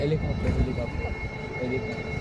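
An LUH light utility helicopter flies a wing-over maneuver at an airshow, its steady engine and rotor drone continuous and moderately distant beneath a commentator's voice.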